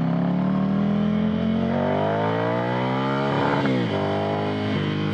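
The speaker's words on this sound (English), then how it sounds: "engine spins up fast, acceleration is really nice" A Ducati Monster 797 motorcycle engine revs and accelerates hard through the gears close up, its rising whine climbing steadily, with a shift-like dip partway through and no talking.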